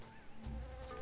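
Bees buzz in a noisy jungle in Tales of Monkey Island, heard as a faint, brief insect drone over low ambient rumble.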